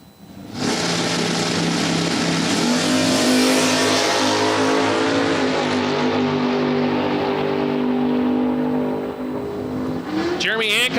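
A 1967 Camaro and a 1969 Mustang Fastback launch at a drag strip, a sustained loud roar of engines accelerating hard for about ten seconds, with an announcer talking over it.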